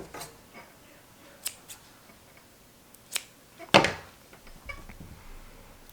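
Scissors snip through pale blue yarn fringe on a woven piece, giving a handful of sharp, close clicks spaced irregularly, with one especially loud cut standing out among quieter snips.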